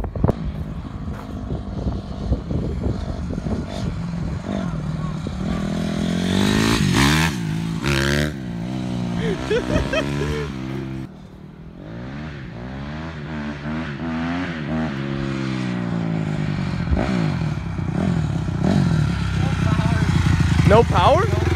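A Honda CRF250 dirt bike revs hard during a wheelie attempt, its engine note rising and falling in loud sweeping surges, with people talking over it.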